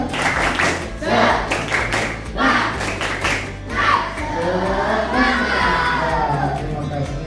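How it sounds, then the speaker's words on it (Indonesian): Primary school children in an Islamic studies class perform a rhythmic clapping chant, bursts of loud group claps mixed with shouted voices, then a stretch of children chanting together. "Ayo, tepuk semangat."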